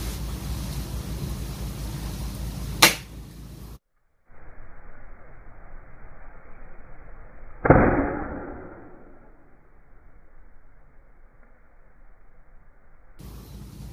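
A KAC PDW Bison airsoft gun by D-Cobra M301 fires a test shot outdoors in strong wind, giving a sharp snap followed later by a louder impact burst that fades slowly over steady wind noise.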